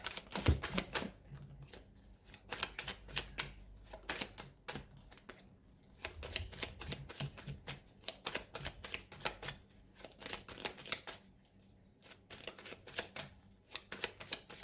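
Tarot and oracle cards are shuffled and cut close to the microphone. Quick, papery riffles and soft flicks come in repeated bursts with brief pauses between them, and nobody speaks.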